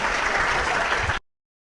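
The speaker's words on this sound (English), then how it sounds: "That's the end of this round. Round of applause." Audience at a crucifixion debate in a Potchefstroom Baptist hall breaks into loud, dense applause that holds steady, then cuts off abruptly into silence.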